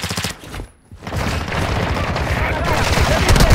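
Dense, continuous automatic gunfire with booms in the Call of Duty DMZ video game, loud and sustained after a brief dip, with faint player voices underneath.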